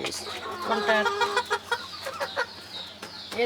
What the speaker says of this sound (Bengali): মোরগ মোরগ মোরগ